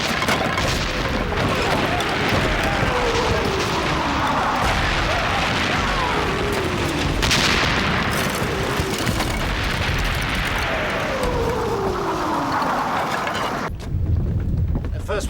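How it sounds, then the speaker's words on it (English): Distant cannon artillery fire in a period naval drama, heavy rumbling booms rolling under a constant windy roar, with people speaking over it. "That is cannon."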